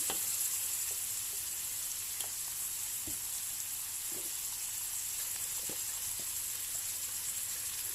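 Braised pork with pickled mustard greens, soy sauce and sugar being stir-fried in a pan, a steady bright sizzle broken by occasional soft scrapes and knocks of stirring.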